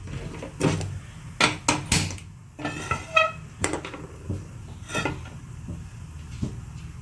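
A knife chops onion and green chillies on a board in a home kitchen, giving a dozen or so irregular sharp taps and thuds, close and clear, with quiet gaps between them.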